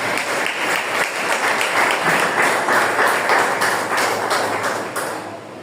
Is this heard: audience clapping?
yes